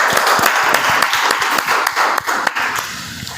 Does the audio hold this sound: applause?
yes